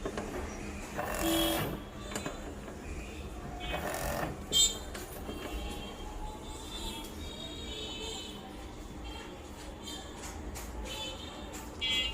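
A Juki SC-500 sewing machine, just freed of its control-board error 7, running in a repair shop with a soft mechanical whir, a few louder bursts of stitching and a sharp click, fairly faint and without talk.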